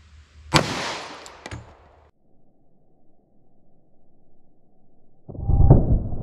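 A 10mm Super Vel solid copper hollow point round fires into a gel block backed by MDF, one sharp loud report with a short decaying tail, then quiet, followed by a heavy low thump near the end.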